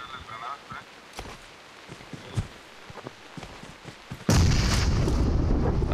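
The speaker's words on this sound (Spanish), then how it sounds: "Voy a tirarles granadas, espera." Grenade blasts in a video game: quiet shuffling and scattered thuds give way to a sudden loud, broad explosion that roars on to the end.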